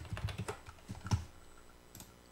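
Computer keys clatter quietly and close by as code is typed, in short uneven bursts of clicks with brief pauses in between.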